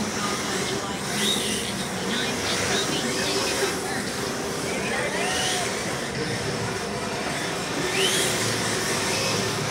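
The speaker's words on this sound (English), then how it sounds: "Checking out the Mini Z course. They got a nice Mini Z course going on now." Mini-Z radio-controlled cars, including a Ferrari Enzo, race around an indoor track, producing a constant high whine of small motors and tyre noise at steady volume, with a voice talking over it.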